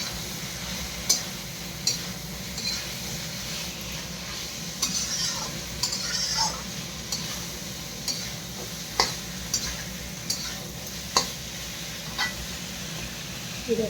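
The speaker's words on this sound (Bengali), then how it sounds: "ভালো করে কষে নেব। ভালো করে কষে তারপরে জল দিয়ে দেবো।" Soybean curry is stirred and sautéed in a pan, with a soft sizzle under regular scraping strokes of a spoon against the pan, about one per second.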